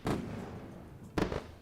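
Two sharp fireworks-style bangs used as a celebration sound effect, each a brief loud burst with a short fading tail, spaced about a second apart.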